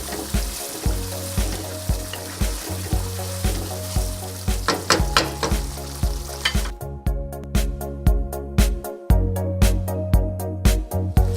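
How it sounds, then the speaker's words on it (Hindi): Boneless chicken handi sizzles and fries loudly in a pan while a spoon scrapes and stirs it in a repeated rhythm. The sizzle stays constant, with brief pauses between clusters of clanking strokes. "और थोड़ी थोड़ी देर बाद इसमें साथ साथ चम्मच भी हिलाते रहें।"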